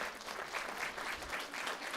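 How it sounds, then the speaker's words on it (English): An audience at a Hmong refugee community forum claps steadily, a dense, even patter of many hands that keeps up without pause. "So let's give them all a round of applause."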